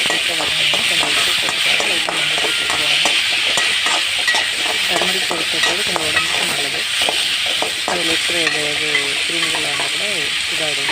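Tomatoes sauté with onions in a pan for a cauliflower gravy, a loud continuous sizzle broken by frequent rhythmic scraping strokes of a spoon, close up with no talking.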